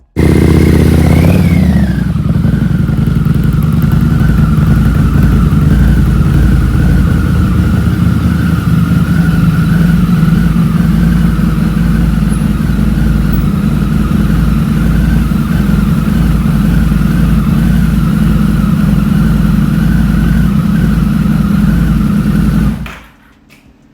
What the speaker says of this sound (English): This motorcycle actually has a Porsche motor that runs on cc instead of cubic inches.